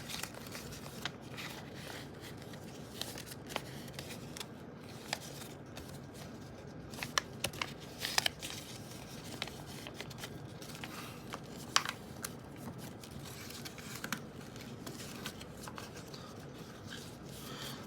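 Paper folded along existing creases for a paper airplane, soft rustling and crinkling with scattered sharp creasing snaps over a quiet background.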